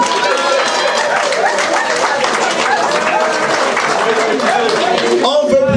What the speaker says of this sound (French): Comment applaudissons pour la famille Fezzi.